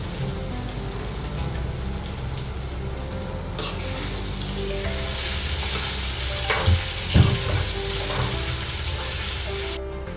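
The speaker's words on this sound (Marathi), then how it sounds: "आता आपण मस्त परतवूया" Tapioca pearls and chillies are sautéed in a hot pan, giving a steady close sizzle with occasional scraping stir sounds and no talk.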